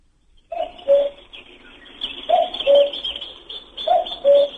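A person on the phone imitates a cuckoo with their voice, giving repeated two-note hooting coos in three short groups, clear and fairly close over a quiet line.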